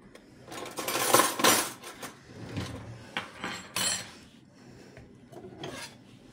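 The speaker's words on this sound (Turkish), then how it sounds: "Şuradan bir kaşık alacağım şimdi." Metal scrapes and clinks in a kitchen as a spoon knocks against dishes, with irregular close rattling and rubbing that rises and falls, and no talk.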